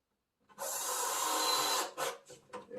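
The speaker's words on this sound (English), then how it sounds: "So I'm just going to put a couple of screws in here just to hold it in place." Screws driven into a two-bin recycle unit with a door, one long steady whirring drive of a power driver biting into wood, followed by a few short bursts as the screw seats, close and fairly loud.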